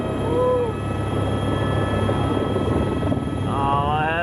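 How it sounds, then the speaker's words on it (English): A helicopter's steady rotor and engine roar fills the clip at the 2024 Le Mans race, loud and continuous, with brief tonal whistles rising above it. "Oh, helicopters are just so cool."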